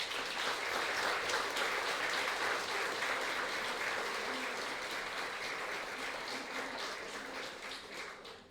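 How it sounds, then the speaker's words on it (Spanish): Applause at an academic legal conference fills the room, a dense, steady clapping from a large audience that holds loud for most of its length and tapers slightly at the end. "ahora sí podemos brindarnos un fuerte aplauso"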